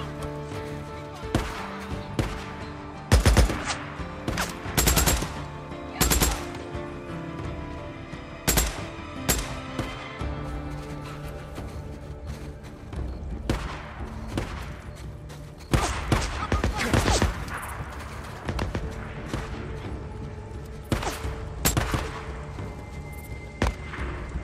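Pistol fire aimed at zombies in a zombie survival video game: sharp single shots spaced irregularly, some in quick pairs, loud against a steady game backdrop.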